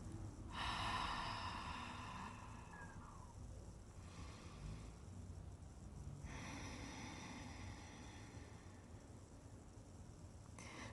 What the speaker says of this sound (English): I gave you two examples of the exhalation with your mouth open or your mouth closed